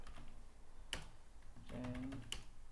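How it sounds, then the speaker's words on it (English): Very quiet, sparse clicks of keys on a computer keyboard, a few isolated taps and a short cluster, close by in an otherwise hushed room with no talking. "now we've got to go and type all of that over again"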